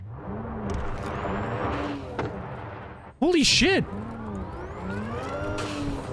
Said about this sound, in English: The engine doesn't change too much, but the wheels change a lot.